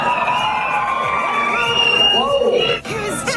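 A sold-out comedy show audience cheers, whoops and shouts in a standing ovation for Chris Rock, a loud, continuous crowd roar with high excited voices rising above it.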